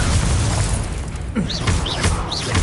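Confringo spells in Hogwarts Legacy set off a dense, continuous rumble of booming blasts and game effects, with a few brief whooshing casts layered on top.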